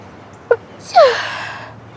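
A single sharp sneeze, preceded by a quick intake of breath, close and loud against a quiet room.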